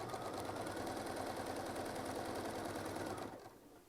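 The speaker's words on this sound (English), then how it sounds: "Maybe we'll sew just a little bit faster so we can kind of get through some of this." Sewing machine running fast during free-motion quilting; a steady, fairly faint whir with rapid needle clatter that runs continuously before slowing and fading near the end, with no talk.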